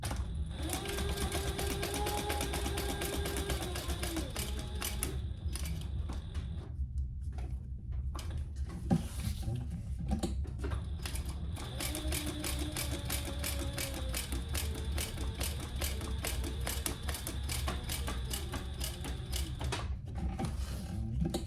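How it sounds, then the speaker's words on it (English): Stitching another row on a hot pink waist pack, a sewing machine hums steadily at close range, its rapid needle rhythm running almost continuously with a few brief pauses. "we're gonna do another row of stitching"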